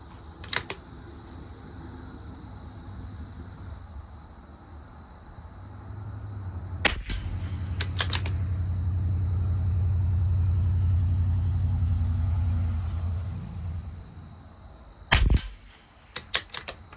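Tikka T1x rimfire rifle firing Aguila ammunition at a 50-yard target match: about seven sharp, fairly close cracks come in uneven bursts, with a steady hum and a low rumble underneath.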